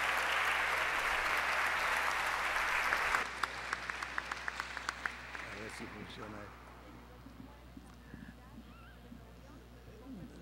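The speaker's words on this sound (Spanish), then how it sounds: "Demos un fuerte aplauso para recibir al maestro Israel Cavazos Garza." Lecture-hall audience at a cultural conference in Monterrey breaks into loud, dense applause that thins into scattered individual claps and fades out, with voices murmuring as it dies away.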